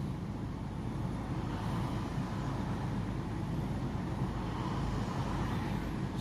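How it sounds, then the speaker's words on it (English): A Range Rover Evoque 2.0 diesel engine with a diesel particulate filter restriction fault idles steadily, a constant low rumbling drone heard close with no talk. "Let's let it idle down, see where we're idling."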